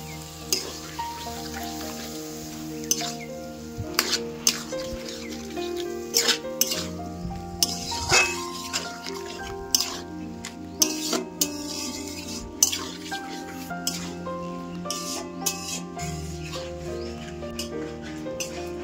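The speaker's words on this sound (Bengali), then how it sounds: "এটা একটু কষিয়ে নিই, তারপর আমি জল দেবো।" Mustard-poppy paste, vegetables and chilli powder sautéing in a pan, a steady close sizzle of frying with repeated scraping stirs and clinks throughout, no talk.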